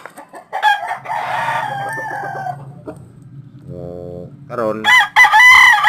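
Roosters crow loudly and close by, several long calls in turn with clucking between, and a brief spoken word near the start.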